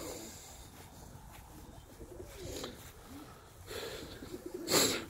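White short-beaked ornamental pigeons of the Iraqi Mosul type cooing softly in a loft, with low throaty coos and faint rustling across a quiet background and a louder flutter near the end.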